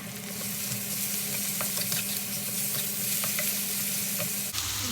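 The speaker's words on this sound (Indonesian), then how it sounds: "Tumis bumbunya sampai harum baunya." Ground spice paste with crushed ginger and lemongrass stir-fries in hot oil for goat tongseng, with a steady close sizzle broken by scraping stirs and a clunk near the end.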